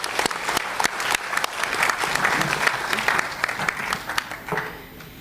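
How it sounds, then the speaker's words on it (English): Audience applause at an agricultural partnership forum conference, thanking a panel: dense crowd clapping with sharp individual claps, steady for several seconds before tapering off near the end. "Please put your hands together."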